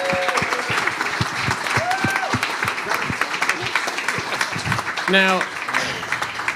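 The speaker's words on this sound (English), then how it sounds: "if you will give him a round of applause" A room of people at a hacker conference Hall of Fame induction in Brooklyn gives a round of applause, dense and loud throughout, with a few whoops and cheers rising above it and someone speaking briefly over the clapping.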